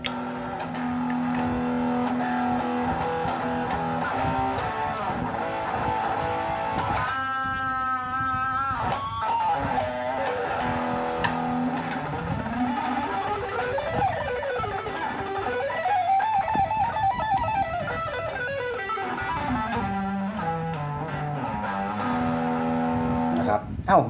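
An electric guitar plays through heavy distortion from a Flamma FS06 preamp pedal, sustained gritty chords and bending lead lines ringing out continuously at a moderate level.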